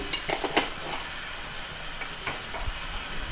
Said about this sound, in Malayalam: ഇതെല്ലാം കൂടെ ഒന്ന് നമുക്ക് ഇളക്കി മിക്സ് ചെയ്യാം